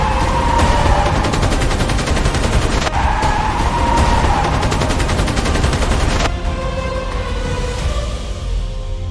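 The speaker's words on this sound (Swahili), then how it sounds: "Magari 5 ya polisi yalikuwa nyuma yao yakifyatua risasi." Rapid, relentless automatic gunfire rattles loud and close during a police car chase after bank robbers, dense bursts running continuously with no pause or speech.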